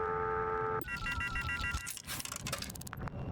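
Payphone sounds in the video game Shadows of Doubt: a brief electronic ring tone followed by quick clicks and beeps of keys and dialing, short and close.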